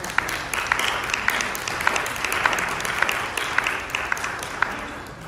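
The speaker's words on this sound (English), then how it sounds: "So please give her a round of applause" Applause for Jessica Myers of Environmental Services at a staff gathering, a group clapping steadily with a few sharper individual claps standing out, moderately close and continuous.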